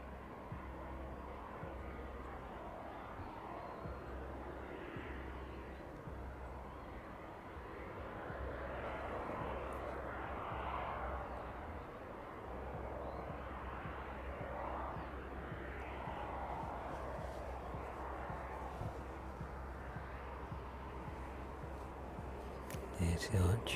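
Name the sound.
aircraft flying overhead near East Midlands Airport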